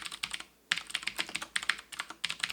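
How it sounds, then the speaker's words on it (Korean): IKBC mechanical keyboard with blue clicky switches fitted with ABS keycaps, typed in a quick uneven run of sharp, bright clicks up close, with one short pause. "다시 ABS 키캡으로 교체해서 타건해 보도록 하겠습니다"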